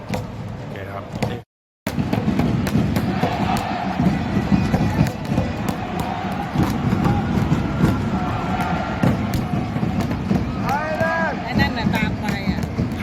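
Thai football supporters at a Thailand national team match against Chinese Taipei in an AFC Asian Cup 2027 qualifier fill the air with dense, continuous crowd noise and chanting, sustained throughout apart from a brief dropout near the start.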